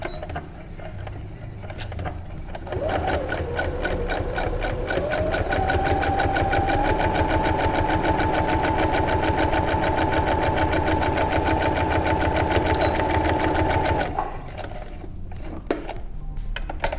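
A sewing machine runs steadily for about eleven seconds, stitching a French seam with a half-centimetre allowance on dress fabric, wrong sides together. Its rapid mechanical chatter and motor whine stay loud and close, with quiet pauses before and after.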